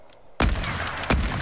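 Gunfire in Fortnite: two sharp, loud shots, the first after a quiet lead-in and the second about three-quarters of a second later, each followed by a brief ringing tail.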